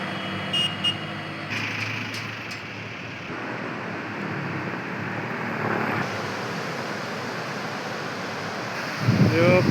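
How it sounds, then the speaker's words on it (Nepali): The Kali Gandaki river rushes past in a steady, broad roar, close by, with gusts of wind buffeting the microphone and a brief knock near the end. "यो काली गण्डकी नदी"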